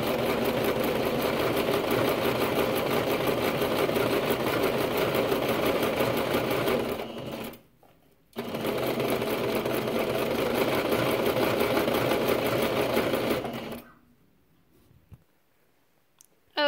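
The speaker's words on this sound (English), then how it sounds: "and then just sew it on down" A sewing machine runs steadily, stitching a reading pillow along the width of the presser foot. It is loud and continuous, stops briefly around the middle, resumes, then cuts off near the end.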